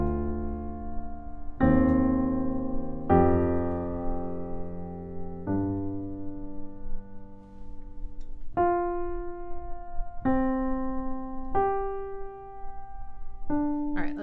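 Piano left hand from a song, playing interlocking fourths as a slow series of low sustained note pairs, each struck and left ringing before the next, steady and alone.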